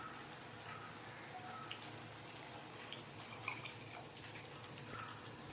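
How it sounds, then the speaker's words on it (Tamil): Water poured into a pot of fried cauliflower biryani on a home stove, a soft steady trickle and splash at low volume with a brief louder splash near the end. "2 நிமிஷத்துக்கு அப்புறம் இதில் தண்ணி சேர்த்துக்கிறோம்."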